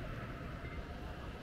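A tram passing along a street in Helsinki during a November city walk, a brief low rumbling roll of rail wheels with a faint rattle, fairly close and steady, with no voices.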